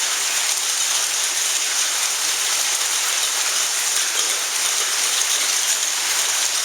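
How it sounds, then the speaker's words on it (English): Hail pouring down hard during a storm in Dallas, a dense, constant hiss of hailstones striking surfaces, loud and unbroken throughout with no voices. "But it is hailing like crazy."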